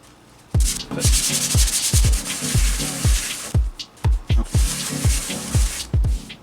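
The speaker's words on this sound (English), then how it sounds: "So I'm gonna sand this side down." Hand sanding on a Fairlight CMI case panel: a close, loud run of rapid rhythmic rasping strokes, paused briefly midway before resuming.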